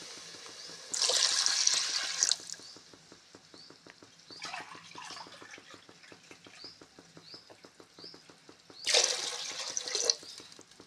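Water pours in two splashing bursts into a cooking pot for chicken biryani, with soft drips and light ticking sounds filling the quieter stretch between them.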